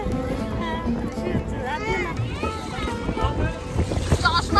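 A boat ride across the river in Rishikesh, with a steady motor drone and wind buffeting the microphone under near continuous chatter from passengers.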